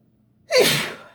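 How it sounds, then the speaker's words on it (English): A single sharp sneeze bursts out after a brief quiet moment, close and fairly loud, trailing off quickly. "I'm going to sneeze, hold on."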